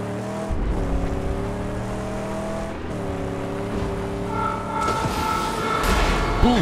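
A car in the Mad Max video game drives with a loud, continuous engine drone that stays steady, then climbs in pitch as it revs harder near the end, alone without talk.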